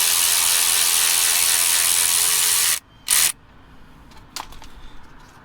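A ratchet wrench works on a brake hose bolt of a 2016 Jeep Wrangler, with a loud continuous whirring burst lasting about three seconds, one more short burst, then a few faint clicks in near silence.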